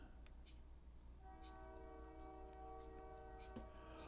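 A train horn sounds steadily over a low rumble of rail traffic, with a sharp clank partway through; the horn holds a sustained chord for several seconds.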